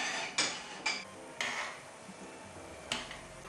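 Saucepan repeatedly lifted off and set back onto a stove while melting butter over a water bath, giving four sharp metallic clanks spaced about a second apart over a low steady kitchen background.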